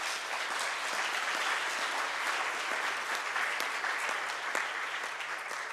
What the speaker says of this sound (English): let's give a round of applause for Dan